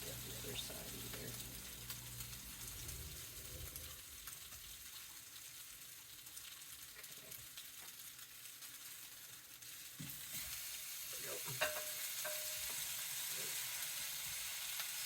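Small pieces of French toast fry in a pan with a continuous faint sizzle and occasional light clicks of a utensil. It stays even throughout with no talking.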